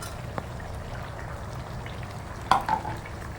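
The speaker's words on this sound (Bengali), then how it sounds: "একটা টমেটো দিয়ে দিলাম আর 3-4টে কাঁচা লঙ্কা দিয়ে দিলাম, দিয়ে এটার সঙ্গে ভালো করে মিশিয়ে নিচ্ছি" Chicken masala fries with a low, steady crackle, and a louder burst of stirring and sizzling comes partway through as tomato and green chillies are mixed in.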